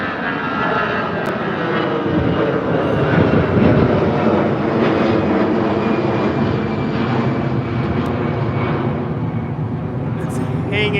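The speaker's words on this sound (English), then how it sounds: "Another American jet." An American Airlines jet at Chicago O'Hare roars loudly and steadily for the full span, a broad engine rumble with a whining edge and a slow swell midway, passing close overhead.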